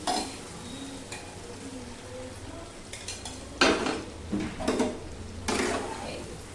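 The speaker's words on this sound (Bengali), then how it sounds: "ভাজা পটলগুলো দিয়ে এই মশলার সাথে পোস্ত কাজু কিশমিশ বাটার সাথে একটু কষিয়ে নিচ্ছি" Fried pointed gourd being stirred into a poppy seed, cashew and raisin spice paste in a pan: a few sharp spatula scrapes and clinks over a faint steady sizzle.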